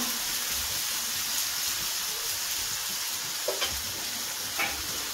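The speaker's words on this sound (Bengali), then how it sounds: "মশলাটা খুব ভালো করে কষে যাক" Turmeric and chili powder fry in a pan for ghugni, giving a steady close sizzle with a few soft stirring scrapes and no talking.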